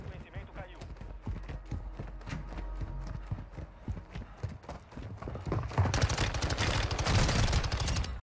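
Video game weapon fire rattles in rapid clusters of shots, loud and close, with someone talking over it and a denser, louder burst of firing near the end.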